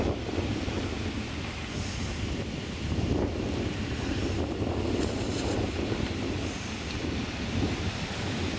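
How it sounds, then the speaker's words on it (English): Cold wind buffets the microphone steadily in an outdoor park setting, a continuous low roaring rumble with no pauses and no talking. "it's a nice cold wind in my face right now"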